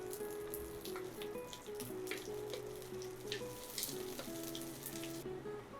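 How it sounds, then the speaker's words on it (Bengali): Raisins, cashews and almonds sizzle in a little ghee, a soft steady frying crackle at close range with faint clinks, no talk. "আর আমি এখানে অল্প একটু ঘি দিয়ে দিলাম, দিয়ে যে এখানে ড্রাই ফ্রুটস কিছুটা নিয়েছি, কিশমিশ, কাজু বাদাম আর কাঠবাদাম"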